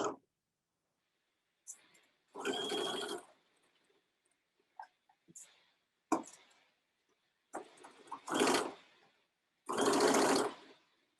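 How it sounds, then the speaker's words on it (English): A sewing machine runs a permanent stitch around a child's dress waist seam in short separate bursts of whirring, with quiet clicks and handling noises in the pauses between runs. "we're just going to do a 1/2 inch permanent stitch around the entire waist of this dress."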